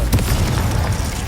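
A Confringo blast cast in the video game Hogwarts Legacy, heard as one dense booming burst with crackling spread across a short loud moment, strong low rumble throughout and no speech.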